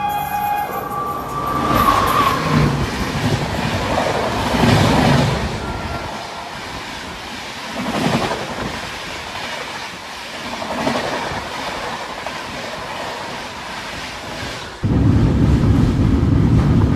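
The Howrah Barbil Jan Shatabdi Express pulls into an Indian station with a loud, continuous rumble of wheels and rattling carriages that rises sharply near the end. No one speaks.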